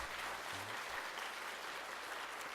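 Audience in a church gathering applauding to welcome guests, a faint, steady wash of clapping heard from a distance without voices over it.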